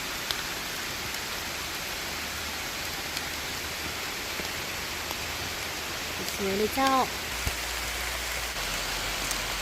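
Steady rain pours down in a mountain forest during mushroom picking, a dense continuous hiss throughout, with a brief burst of speech near the end and a few faint knocks.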